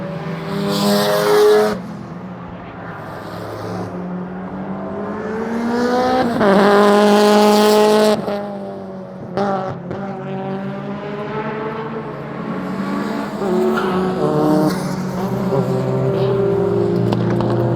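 Japanese race cars in a Tsukuba Circuit time attack roar by with high-revving engines, rising and falling in pitch through gear changes and passes, loud and close, with no talk.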